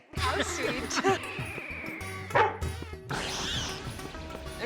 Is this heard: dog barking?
yes